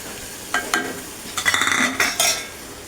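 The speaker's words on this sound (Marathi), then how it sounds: "आणि वाटप पण मी चांगलं परतून परतून घेते" Onion and coconut paste is sautéed in oil in a pan with a few distinct scraping strokes of a spoon, bursts of stirring and sizzling, close and fairly loud with short pauses between them.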